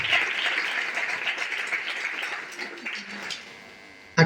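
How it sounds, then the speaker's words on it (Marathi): Applause for the organisers of a school programme about Shaheed Bhagat Singh, a dense burst of clapping from a crowd that gradually thins and fades over a few seconds before a sharp knock at the end. "एकदा कडाडून टाळ्या व्हायला पाहिजे"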